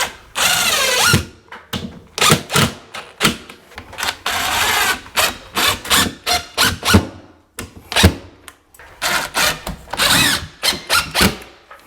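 Drywall screw gun driving screws into ceiling drywall: repeated whining motor bursts, each a second or so long, separated by short pauses, loud and close.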